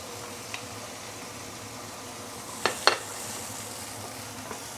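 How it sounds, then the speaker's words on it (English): Fresh herbs sautéing in hot oil for steamed ribs: a soft, steady sizzle with faint background hiss, broken by a few sharp clinks of a utensil stirring in the pan. "Once the oil is heated up, we are going to saute all the fresh herbs."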